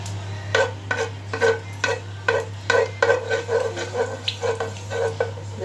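Garlic stirred in hot cooking oil in a pan, a regular series of scraping stirs about every half second over a steady low hum, with a soft sizzle underneath; no one speaks.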